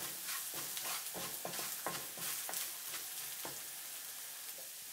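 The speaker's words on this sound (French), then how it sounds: "je mets une cuillère à café de piment doux concassé. Je remue pendant 10 secondes" Crushed sweet chili frying in a pan for beef gives a soft sizzle under rhythmic stirring strokes, a run of scraping pulses that slows and then settles into quiet frying.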